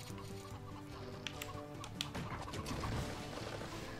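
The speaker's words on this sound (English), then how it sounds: "Chicken through the wall." A chicken clucks softly in the Lego Movie Videogame, its short calls mixed into busy game music and effects.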